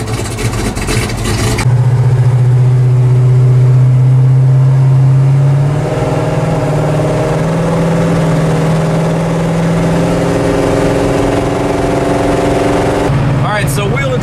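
A car engine with its choke disconnected runs close by, first at a higher, revved-up pitch, then settling into a steady idle for several seconds before it picks up again at the end.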